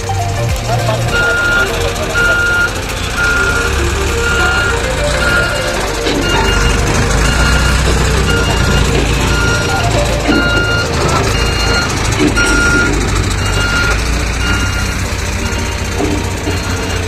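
Construction machinery at an airport building site in Azamgarh, with a crane lifting loads: a loud, continuous engine and truck din with steady, evenly spaced reversing beeps running throughout, under someone talking.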